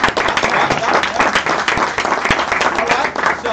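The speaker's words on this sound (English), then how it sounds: "Give me a round of applause" Close, loud clapping from a business networking group greeting a new partner, a fairly small crowd producing uneven, sharp claps in a lively burst, with some voices mixed in.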